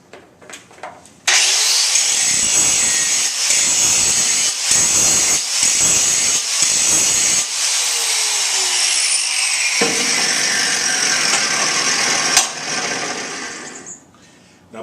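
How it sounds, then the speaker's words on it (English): A grinder works the mill scale off a steel welding test plate, a loud, close, continuous high whine that starts abruptly and shifts in tone as it bites and eases, then winds down near the end. "Now be real careful when you grind the mill scale off this back side."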